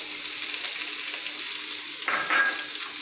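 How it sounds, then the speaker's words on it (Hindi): Cumin seeds crackling in hot oil in a pan, a soft continuous fizzing sizzle with a sharper burst of spattering near the end, quiet and close. "जीरा टटकने लग गया है।"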